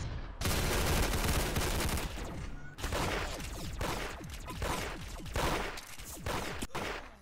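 The Z80 gun in a Roblox shooter fires rapid, loud automatic bursts, nearly continuous at first, then broken into shorter volleys with brief gaps between them.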